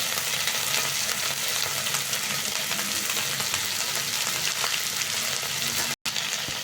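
Moringa leaves frying with chopped tomato in a pan, a loud, dense, continuous sizzle heard close up, with one very brief dropout near the end and no voices.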